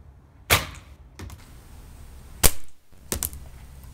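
A Chinese XSB2-1 air rifle fires during a power test through a row of bottles: three sharp, loud cracks spaced apart, some followed by quick clinks and thuds of pellets striking the bottles.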